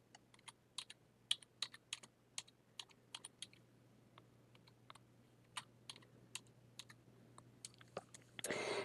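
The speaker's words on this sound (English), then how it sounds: "you are going to start typing whatever you wanted to say" Typing on a computer keyboard, close and quiet: irregular bursts of crisp key clicks with short pauses over a low hum, ending in a louder rustle.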